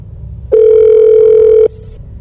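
A single steady telephone tone while a call connects, loud and close, lasting about a second before cutting off, with no talk.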